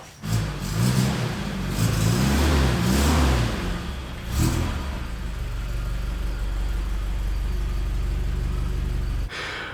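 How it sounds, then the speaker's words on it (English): A 1977 Toyota Celica liftback engine rumbles and revs as the car is driven into a garage, loud and close at first, then settling to a steady idle before a sharp knock at the end. "So I'm gonna bring in the current project car."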